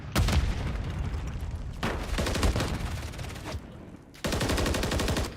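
Dense bursts of rapid gunfire during a Call of Duty League Major 1 championship match, with sustained automatic fire broken by two short pauses and then resuming loudly.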